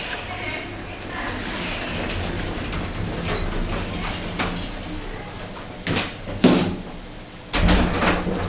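A lift at Bluewater shopping centre has doors that slide and thud shut, set against a steady hum of machinery with a couple of brief knocks and clunks near the end.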